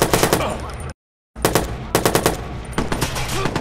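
Rapid automatic gunfire in the shooter video game Watch Dogs during a neighborhood shootout, loud dense bursts broken by a short silent gap, then further volleys and single shots.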